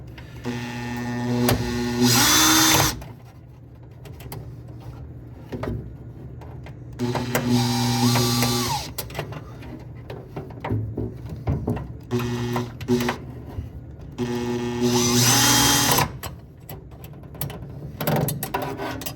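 Screws being backed out of a pellet stove auger cover, with a whirring powered driver in three bursts of a few seconds each and quieter metallic clicking and handling between them, close up with no talking.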